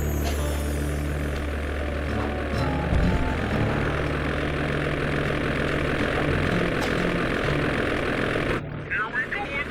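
Ice plane propeller engine in the video game Sly 2, a steady loud droning hum running for most of the stretch before cutting off abruptly near the end.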